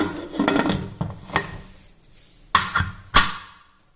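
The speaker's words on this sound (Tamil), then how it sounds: "குக்கரை மூடி வெயிட் போட்டுக்கலாம்" A pressure cooker for banyard millet pongal is handled, with a few rattling metal knocks and clatters, then two sharp, close metallic clanks as the lid shuts and the weight drops into place.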